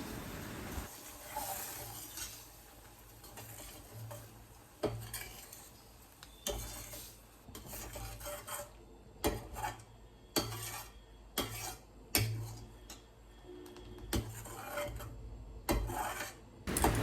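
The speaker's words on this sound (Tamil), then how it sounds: "அதை கிளறி கொடுத்துக்கிட்டே இருக்கணும்." A utensil stirs thickening urad dal flour porridge in a pan, scraping and tapping faintly in irregular strokes against a quiet background.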